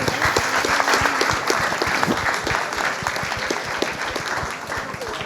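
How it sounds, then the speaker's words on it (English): Applause at a Goa heritage quiz semi-final, with individual claps close and distinct over a busier background of clapping. It carries on evenly before thinning a little, and faint voices can be heard beneath it. "Please clap for everyone."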